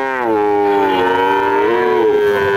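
A Friesian cross heifer calf at a cattle market gives a single long, loud moo close by, its pitch sliding as the call is drawn out.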